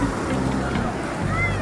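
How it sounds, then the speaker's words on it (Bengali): Sea waves wash and churn along Puri beach in a steady broadband roar, close and loud for the whole stretch, with a voice talking over the surf. "এখনো ঢেউ আসছে।"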